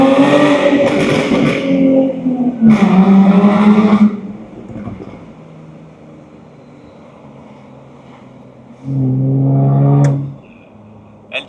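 A Jaguar F-Type S being driven gives loud, close engine revs in two bursts, a lull, then a third rev, each climbing in pitch with a raspy exhaust growl before easing off.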